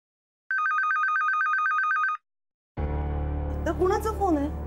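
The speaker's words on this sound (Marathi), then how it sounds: "कुणाचा फोन आहे?" A telephone bell in a home at night rings in a rapid, loud trilling burst for under two seconds, then falls silent before people begin talking.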